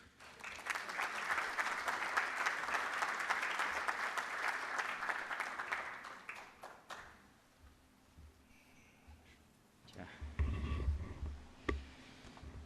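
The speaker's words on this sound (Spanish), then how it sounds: "vamos a brindarle un fuerte aplauso al doctor Kenneth Green" Audience applause at the First Peruvian Congress of Electoral Studies fills a conference hall. It is steady and fairly loud for about seven seconds, then fades. Faint room noise and a few low thumps follow.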